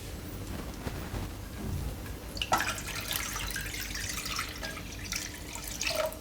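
Water runs and splashes into a metal pot on a gas stove for several seconds, a steady trickling stream with small drips and clatters.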